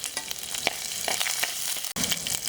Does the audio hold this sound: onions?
yes